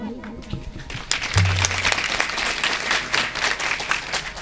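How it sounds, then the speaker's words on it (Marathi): An audience seated at a kirtan claps along, a crowd of hands beating in a busy, steady patter that swells in after a brief pause and continues at moderate loudness, with voices mixed in. "म्हणून टाळी वाजवली पाहिजे"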